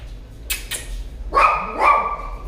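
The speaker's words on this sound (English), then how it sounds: "There's the two dogs." Two dogs bark close by: a pair of short, sharp barks, then two longer, louder barking bursts about half a second apart.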